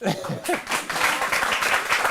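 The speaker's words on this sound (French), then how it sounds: "Ça s'applaudit." An audience at a comedy show applauds and cheers briefly, a burst of clapping rising after a short spoken line at the start.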